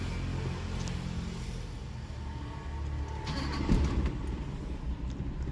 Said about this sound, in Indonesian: bagi yang penasaran untuk mesinnya nih, kita hidupin mesinnya